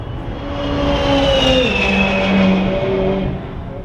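A McLaren race car on a track, its engine note rising and shifting as it passes, loud and sustained for a few seconds, then easing off, with no speech.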